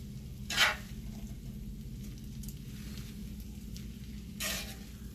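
BBQ spaghetti and meat tossed in a cast iron pan, a steady low sizzle with two brief scraping clatters of the food being turned, close and fairly quiet.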